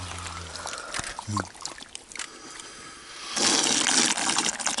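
Water flows and trickles nearby in Ustechko, Ukraine, starting faint and swelling into a louder steady pour toward the end.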